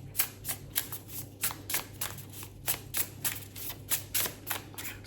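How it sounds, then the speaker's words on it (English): A deck of oracle cards is shuffled close up in a steady run of crisp riffling bursts that repeat for several seconds, with no speech. "Let's do an oracle card for it, and then we'll go on to Catherine."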